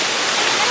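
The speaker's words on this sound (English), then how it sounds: "That is some wet waterfall. That is a wet waterfall." Bushkill waterfall roars as a loud, steady, dense rush of falling water, close by and filling the whole moment.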